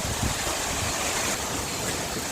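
Hurricane Milton wind drives high water in Plant City, Florida, producing a steady, loud rushing wash with no pauses, close and continuous like churning surf.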